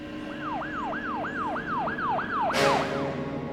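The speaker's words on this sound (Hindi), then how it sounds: "एम्बुलेंस?" An ambulance siren wails in a fast, repeating rising-and-falling pattern, fairly close, with a brief burst of noise near the end.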